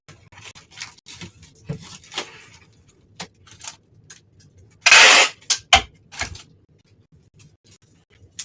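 Scissors cutting down the flaps of a cardboard box, a series of short close snips and clicks with one loud crunching cut in the middle.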